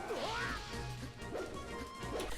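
Falco's forward smash hits in Super Smash Bros., sharp swooshing impacts recurring every second or so over game sounds, fairly faint overall.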